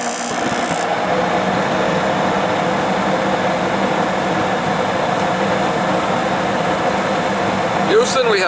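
Ruud 90 Plus gas furnace firing up, a steady loud roaring rush with a low rumble that holds throughout, with a short whining tone near the end.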